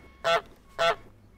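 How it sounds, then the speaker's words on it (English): Two clear, loud goose honks from Untitled Goose Game, spaced about half a second apart against a quiet background. "Actually, let's resample that honk"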